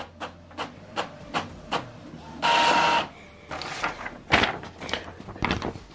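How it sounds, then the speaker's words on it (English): An Epson printer runs a test page, giving a series of short mechanical clacks and ticks, then a steady whirring feed burst in the middle, followed by more clunks and rattles, close and fairly loud with no talk. "it will show you window printer test page"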